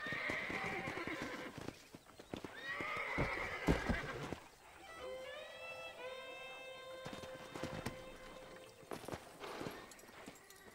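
A horse in the Red Dead Redemption video game whinnies loudly and snorts, with hooves clip-clopping and stamping nearby, followed by a long clear neigh and softer movement afterward.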